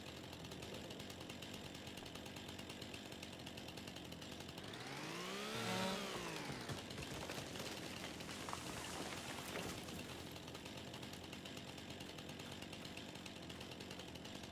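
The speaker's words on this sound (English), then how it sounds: "let's do it with a proper chainsaw this time" A chainsaw runs in Farming Simulator 25 with a steady, buzzing motor drone. The engine revs up and falls back once partway through, then holds a constant whine under rain-like ambient noise.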